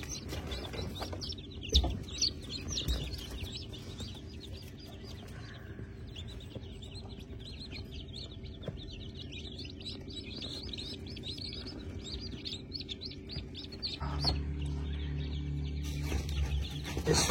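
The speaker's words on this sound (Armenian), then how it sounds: "40 ավել ճուտ են այստեղ, այս փոքր տեղը։" Over forty baby chicks are crowded into a small brooder, making a constant dense chorus of high peeping and chirping close by, over a low background hum that grows louder near the end.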